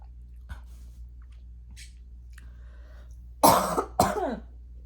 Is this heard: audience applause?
no